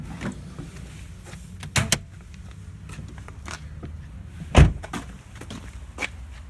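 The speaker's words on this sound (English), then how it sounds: "We'll pop the bonnet." Car bonnet being opened: a few sharp mechanical clunks and a latch release with a louder thump near the middle, close by and alone against quiet outdoor background.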